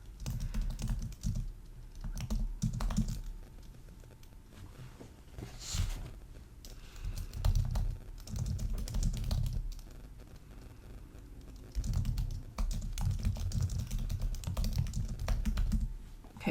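A computer keyboard clatters in steady bursts as HTML code is typed out, soft and close, with short pauses between runs of keystrokes and no voices.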